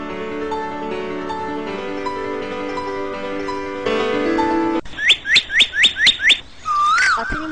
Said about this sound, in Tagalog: At sinimulan na ng ibong Adarna ang pag-awit.